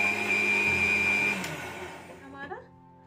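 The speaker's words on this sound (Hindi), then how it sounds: "एक बार और मिक्स करने के लिए मैं इसको मिक्सी में" An electric mixer grinder whirs loudly, blending a jelly milk dessert mixture with gelatin, then spins down and stops; a faint voice is heard near the end.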